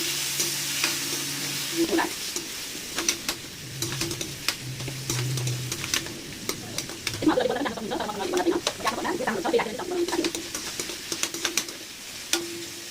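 Chili, carrot and tomato stir-frying in a hot pan for chowmein, a loud steady sizzle broken by sharp clanks of a spoon stirring against the metal, with birds cooing faintly in the background.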